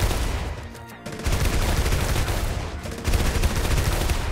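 Dense, sustained gunfire from the video game ROUNDS, a loud, continuous barrage of rapid shots with a brief lull near the one-second mark before the firing resumes at full intensity.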